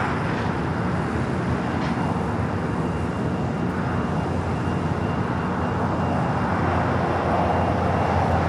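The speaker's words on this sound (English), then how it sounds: "A321 Neo as the Dreamliner now crosses over 25 right" A Boeing 787 Dreamliner crossing runway 25 right at LAX, a steady broad engine roar held at an even level throughout, mid-distance and continuous.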